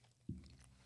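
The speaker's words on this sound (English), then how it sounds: "You guys are going to hear a lot of chewing this episode." Someone chewing mild hot wings during a live wing challenge, a single close crunchy bite followed by soft chewing, quiet with no talking.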